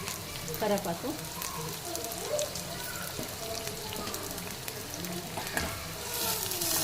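Curry leaves sizzle in hot oil while tempering rasam, a steady, close frying hiss with scattered crackles, a voice speaking briefly over it.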